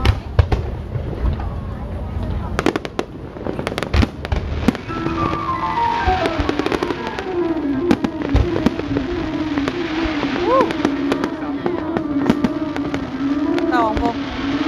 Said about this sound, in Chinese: 大家所欣赏到的烟火